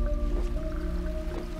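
Water conjured by Giddy in the Owlboy video game, a squishy, dripping watery effect over steady tonal game music, with a few soft splashy bursts.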